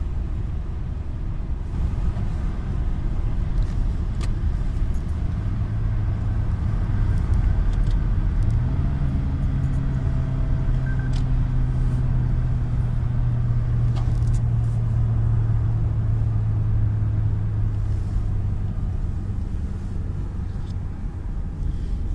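A car on a smog drive cycle, coasting without the brake: a steady low engine and road rumble with a sustained droning tone, heard alone at close range.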